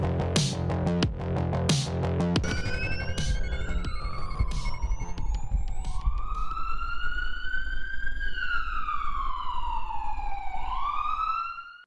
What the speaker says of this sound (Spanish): Escucho la sirena